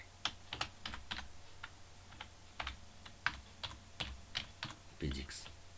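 Steady clicking of a computer keyboard as HTML form code is typed, irregular bursts of keystrokes up close, with quiet speech in the background.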